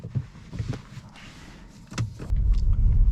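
A Tesla Model 3 Long Range sets off on a cold, rainy 3°C day. A few soft cabin clicks and thumps come first, then a low road and tire rumble swells as the car pulls away.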